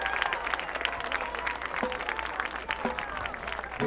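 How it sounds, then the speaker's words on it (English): Stadium crowd at a high school football game applauding the St. Mary's High School Marching Band, a steady, moderately loud patter of clapping spread across the stands with no voices on top. "A round of applause for the St. Mary's High School Marching Band."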